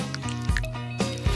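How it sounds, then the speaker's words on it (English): Glue is poured onto the bottom of an old lunch container, making brief squishy, gloopy liquid sounds over background music. "And pour some glue on the bottom."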